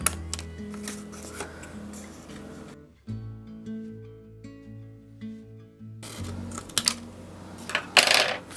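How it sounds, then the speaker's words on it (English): Small scissors snip and rustle through watercolor paper leaves for a fall garland, a close sequence of crisp cuts and paper handling, with background music running through. "we'll just cut around a few of these leaves and start making our garland"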